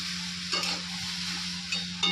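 Mustard seeds, black cumin and dried red chillies spitting and sizzling in hot oil in a home Bengali kitchen, a steady crackle with a few louder bursts of popping, no voices.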